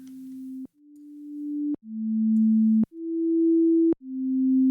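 A series of synth notes, each stepping to a new pitch after a sharp click, then swelling in gradually with a slow attack so the tone eases in smoothly; clean and steady, with no other sound.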